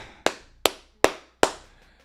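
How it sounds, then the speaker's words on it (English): Four sharp hand claps ring out evenly spaced at roughly one per 0.4 seconds, each a crisp close slap with a short decay, alone with no talking. "Clap it up."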